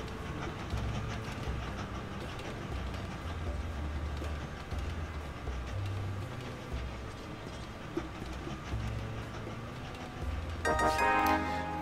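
Trains run in the Train Valley video game, a steady rumbling rail clatter with faint ticking, continuous and mid-level, swelling slightly louder near the end.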